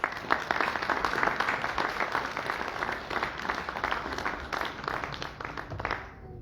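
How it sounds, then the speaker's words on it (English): A crowd at an outdoor multicultural festival in Murray Bridge gives a sustained round of applause, dense clapping that thins and fades out at the end. "Let's give ourselves and everyone a big round of applause, please"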